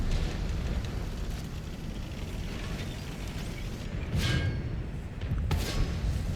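A tank's ammo rack blowing up in World of Tanks: a dense rumbling roar with two sharper bursts near the end, loud and close over a continuous low engine drone.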